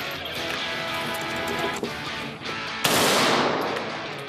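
Kalashnikov rifle gunfire roars in a sustained automatic burst, a dense continuous rattle that swells louder near the end, with no voices over it.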